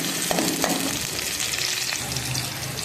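Onions frying in hot ghee for chicken macaroni, a loud, dense sizzle heard up close with occasional stirring clinks and no voices.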